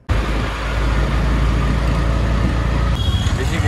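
An auto rickshaw rides through city traffic, its engine and road noise forming a loud, constant rumble with other vehicles around, with no voices heard.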